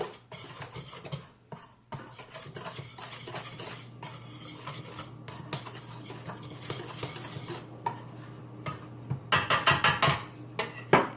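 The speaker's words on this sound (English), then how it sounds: "So you take this little guy, whisk everything together." Dry ingredients for oatmeal raisin cookies, including kosher salt, are whisked together in a bowl, a steady scraping and clinking of the whisk against the bowl that grows into louder rhythmic taps near the end, with no talking.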